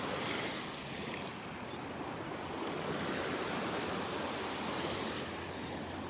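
Ocean surf washing onto a beach in North Naples, Florida, where small fighting conch shells roll in the shallows; a constant broad roar of breaking waves, near and loud, with no voices.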